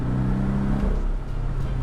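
Porsche 718 Boxster S four-cylinder engine idling with a steady low rumble and throaty harmonic drone, held evenly for under two seconds with no voices over it.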